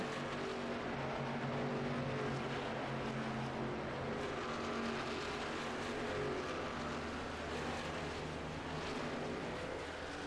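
Race cars on an asphalt track in an Asphalt Outlaws playoff event, a steady, dense roar of engines droning continuously at a distance with no breaks.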